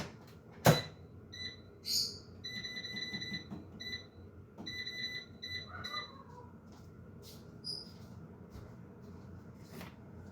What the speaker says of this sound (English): That alarm gives me anxiety